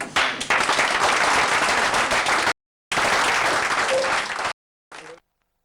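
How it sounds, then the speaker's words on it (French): A television studio audience bursts into loud, dense applause, cut off by abrupt silences, then resumes before a brief final burst. "On applaudit"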